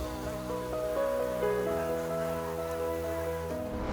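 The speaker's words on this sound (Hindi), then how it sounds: "उनकी भिनभिनाती आवाज कानों में गूंजती और हमें परेशान करती है" Mosquitoes buzz in a close, continuous whine, layered tones that shift in pitch now and then and hold steady for the whole stretch without any voices.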